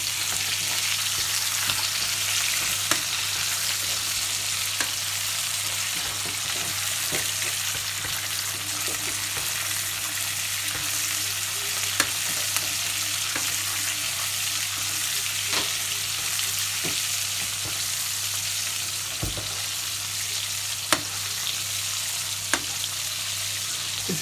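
Salmon fillet pan-frying in butter sizzles and crackles steadily in a hot pan, a continuous close frying hiss with occasional sharp pops and no voices.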